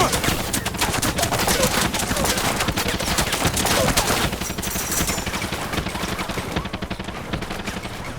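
Rapid, continuous bursts of automatic gunfire in the video game Far Cry 6 rattle on for several seconds, dense and loud, with faint voices mixed underneath.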